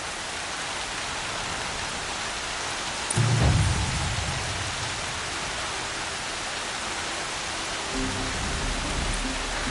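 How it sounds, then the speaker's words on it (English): Heavy rain pours in the Horizon Zero Dawn video game, a dense steady hiss throughout with a brief low rumble partway through, and no one speaking. "Raining like it's trying to wash everything away."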